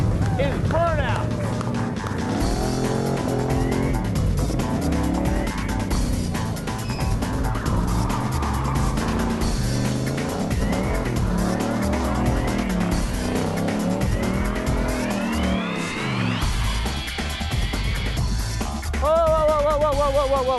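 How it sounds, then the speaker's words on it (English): A Factory Five kit car does a burnout in a build-school setting, engine revving hard with rising and falling pitch and tires squealing in long sweeping tones, while people shout and talk excitedly over it. "Now what we got to do is burnout."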